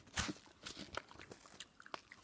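Crunchy chewing and biting of sour candy or chewing gum, close and soft with irregular wet crunches and faint wrapper crinkles.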